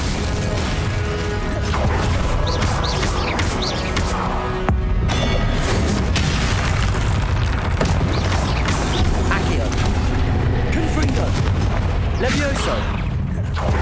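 Spell explosions and magical combat effects in the Hogwarts Legacy PC game, with dense layered booms and crashes over a continuous loud game soundscape, one sharp burst about a third of the way in.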